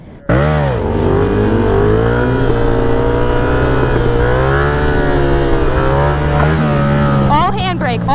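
A motorcycle engine revs hard and close during handbrake wheelie practice, holding a loud sustained roar whose pitch climbs and dips as the throttle is worked.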